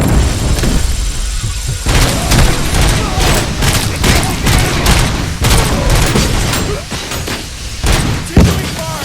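Heavy gunfire in Robocop: Rogue City, loud rapid volleys and booming impacts packed close together in a continuous firefight, with faint shouted voices mixed in.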